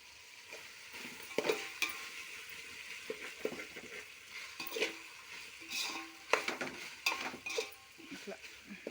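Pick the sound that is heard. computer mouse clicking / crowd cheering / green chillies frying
green chillies frying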